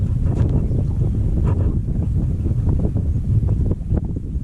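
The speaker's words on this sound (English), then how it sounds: "Windy today, supposed to be some storms come in." Steady wind blows across a fishing boat out on the water ahead of incoming storms, a continuous loud low rumble of gusts buffeting the microphone with no pauses and no voices.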